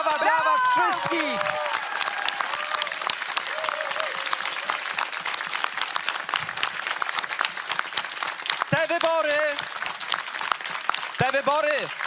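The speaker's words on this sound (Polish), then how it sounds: "Wielkie brawa dla was wszystkich!" Loud, sustained applause with clapping and cheering from a crowd at an election night event for local government elections, continuing throughout with brief shouts rising above it.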